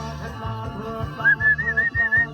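A person whistles to call cattle on a Thai cattle farm, a bright sustained warbling whistle rising and wavering over a steady low droning background, loud and close.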